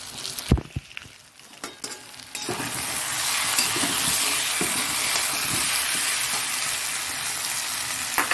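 Mutton being sautéed in a pan with tomato soup, a steady close sizzle and bubbling hiss that builds after a few scattered stirring clatters and then holds loud and even throughout.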